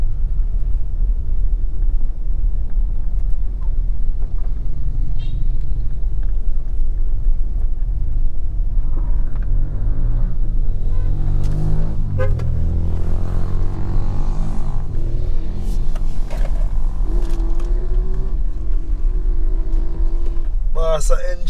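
A motorbike ridden along the coast road from Billys Bay toward Frenchman in Treasure Beach, St Elizabeth, Jamaica, its engine rumbling low and steady while a rider talks over it throughout.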